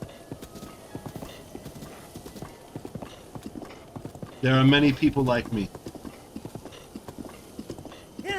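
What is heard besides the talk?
horse galloping in Zelda Breath of the Wild video game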